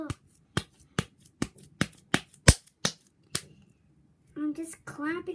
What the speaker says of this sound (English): I'm just clapping my hands and hope it will stick